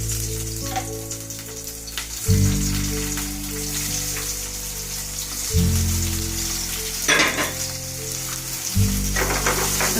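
Eggplant sizzles steadily in hot oil, a dense crackling hiss with a low bubbling undertone that swells louder at several points as pieces shift or are turned, no speech.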